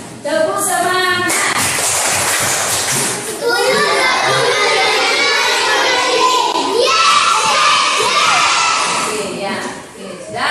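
Schoolchildren in a classroom chant and clap together in a loud, rhythmic 'tepuk semangat' spirit clap, with many young voices shouting in unison throughout and claps punctuating the chant.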